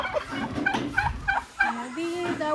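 Large, oversized chickens in a Jamaican rainforest give a run of repeated, tonal, gobbling calls that overlap each other, close and fairly loud, with a sustained rising note toward the end.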